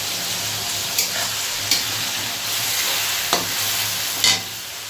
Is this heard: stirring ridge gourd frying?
yes